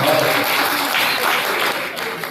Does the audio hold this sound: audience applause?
yes